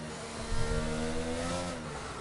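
An Aston Martin race car in a racing video game, set on a Spanish circuit, holding a loud, steady engine note with rising harmonic tones and no voices over it.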